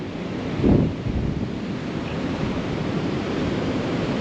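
Strong wind blows outdoors at a campsite, a loud, steady roar with buffeting gusts against the microphone and a brief louder rumble early on, with no talking.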